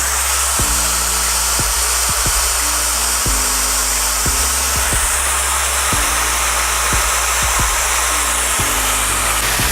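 A Dyson Supersonic hair dryer with a diffuser attached blows on a cool, unheated setting. It gives a loud, continuous rushing whoosh with a high motor whine, heard up close with no talking.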